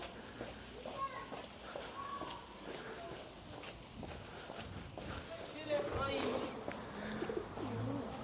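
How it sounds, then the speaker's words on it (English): Pigeons coo softly along a Liverpool residential street amid outdoor background noise and passing footsteps, with people talking nearby. "Pigeons love this street."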